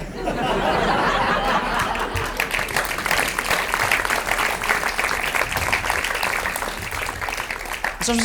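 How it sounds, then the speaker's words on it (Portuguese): A stand-up comedy audience in a live venue breaks into steady, dense applause mixed with some laughter and chatter, sustained for several seconds before a voice cuts in at the end. "Vocês não deviam bater palmas"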